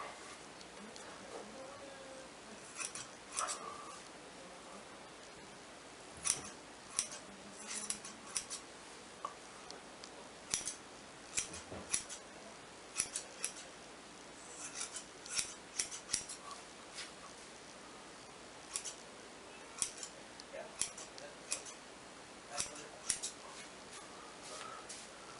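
A person trimming their own hair with scissors, heard as a long run of faint, crisp snips that come close together in irregular bursts with short pauses between them, set against quiet room background.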